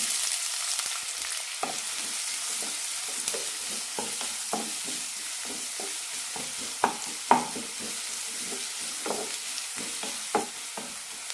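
Sliced onions fry in oil with whole spices: cinnamon, cloves, cardamom and bay leaf. A steady, close sizzle runs throughout, broken by scattered clinks and scrapes of stirring.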